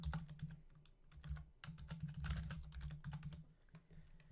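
A computer keyboard is typed on in quick uneven bursts of clicking keystrokes, close and quiet, with brief pauses between runs of keys and no one speaking.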